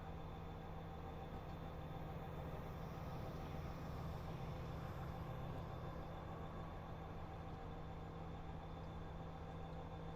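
A train rumbles along Cajon Pass in a train simulator game, a steady, low engine drone with a constant hum, heard alone at moderate distance with no change in pace.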